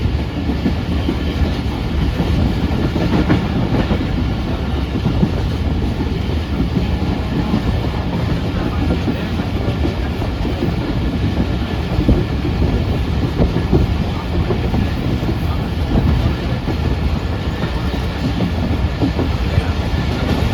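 The 151UP Shah Latif passenger train running near Kotri Junction, heard from on board: a loud, steady rumble with continuous clickety-clack of wheels on rails throughout, no pauses.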